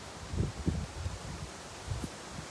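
Wind gusting through a flower garden, giving soft bursts of leaf rustling and low buffeting on the microphone, fairly faint with a few louder puffs and no speech.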